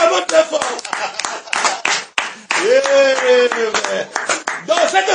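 Loud congregation applause during a church service, dense rapid clapping spread across the whole stretch, with voices cheering and calling out over and through it.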